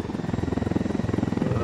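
A helicopter flies in the video game Ghost Recon Wildlands, its rotor beating in a fast, steady, loud pulse throughout, while a player talks faintly beneath it.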